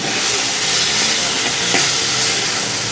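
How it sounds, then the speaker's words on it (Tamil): Herbal greens, their stems and a root sizzle in hot oil while being sautéed for a homemade herbal rasam, a steady dense frying hiss running loud and continuous throughout. "இதை மூணையும் நம்ம நல்லா வதக்கிக்கலாம்"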